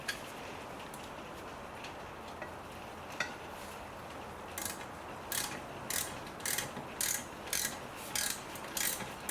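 A ratchet tightening brake caliper bolts on a 2008 BMW 318i E90 during rear brake pad replacement, a run of sharp clicking bursts in an evenly spaced rhythm, close but fairly quiet over a faint background.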